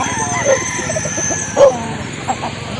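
Chickens and roosters at a chicken fair in Calauan, with a few crows and clucks rising over a busy crowd murmur and steady background chatter, louder calls near 0.5 and 1.6 seconds.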